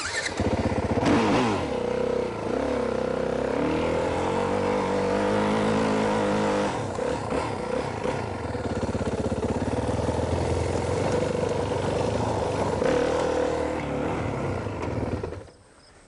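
A dirt bike rides downhill under front braking, its engine a steady close drone with shifting pitch for about fifteen seconds before cutting off abruptly.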